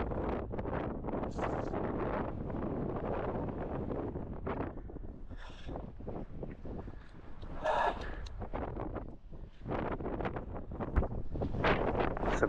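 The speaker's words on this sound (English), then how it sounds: "It's a bit breezy today." Wind blowing across a hillside on a countryside walk, gusting in uneven bursts against the microphone with roaring, buffeting noise throughout, loud and close.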